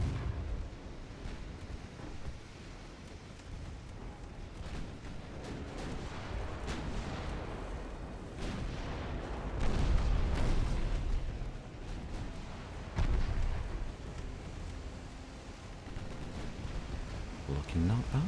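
Torpedoes firing and exploding in the naval game Ultimate Admiral Dreadnoughts, a dense wash of distant booming blasts and rumbling gunfire with louder thuds rising and falling throughout.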